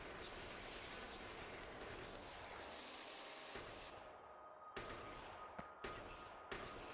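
Gun turrets in the Factorio video game fire at attacking enemies, a dense continuous roar of rapid gunfire followed by a few isolated sharp bangs, with no talk.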